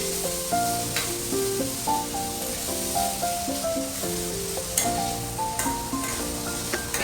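Onions sauté in the oil already used to fry fish for a North Indian style fish curry, with a continuous close sizzle and faint stirring under steady background music.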